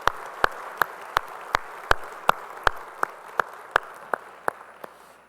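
Applause from a church congregation during a Sunday service, heard as sharp, evenly spaced single claps in a slow steady rhythm over a faint background hum, close and distinct.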